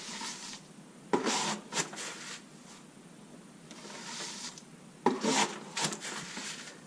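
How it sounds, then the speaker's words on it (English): Sand pours and scrapes into the bottom of a pellet trap in two or three gritty, hissing bursts several seconds apart, close by and fairly quiet, with softer rustling between them. "that's what I'm doing now, is putting 3 or 4 inches of sand"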